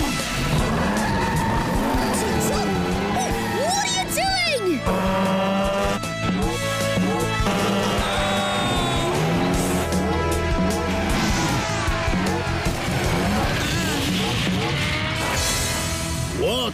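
A cartoon race car named Maxie skids hard as a tire comes off, with the loose wheel rolling away. The squeal and crashing effects are loud and busy, layered over a bright music score.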